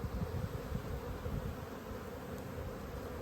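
Honeybees buzz in a soft, steady drone at an open hive during a late-winter inspection, a faint swarm of wings humming close by with a light rustle, no voices.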